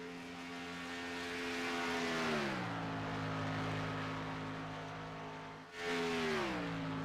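Race car engine screaming past on a fast qualifying lap at Talladega, a loud sustained high-rpm drone that sags in pitch as it passes, then surges back briefly near the end.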